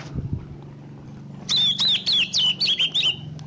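A caged green leafbird (cucak ijo) sings a rapid, clear run of whistled chirps close by after a quiet start, over a low background hum.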